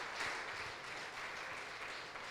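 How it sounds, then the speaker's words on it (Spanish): A church congregation claps steadily in a dense, sustained wash of applause that stays fairly faint and even throughout. "Dele un aplauso al Señor"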